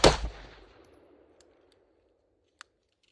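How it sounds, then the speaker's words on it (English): A magazine is seated into an AR-platform rifle with one loud metallic clack that rings out and decays, followed by a single small click a couple of seconds later. "And I'm going to go mag back on the gun"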